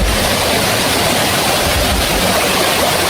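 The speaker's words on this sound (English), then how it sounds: "Oh, there's a waterfall." A waterfall at Apiúna in Brazil gives a steady, loud, unbroken roar of rushing water that fills the whole stretch without pause or voices.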